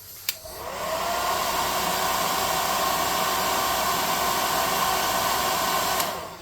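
A hair dryer blowing on freshly painted eyes of a miniature figure, switching on with a click and running as a steady loud whoosh for several seconds before clicking off.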